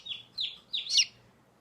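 A young Light Sussex chick peeps four times in quick succession, thin high chirps close by in an otherwise quiet space.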